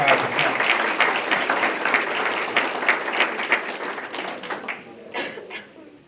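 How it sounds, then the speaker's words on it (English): An audience applauds students at a senior academic awards ceremony, with sustained dense clapping from a crowd that tapers off toward the end, and a few voices underneath. "let's give another round of applause for all the students that are running in the top"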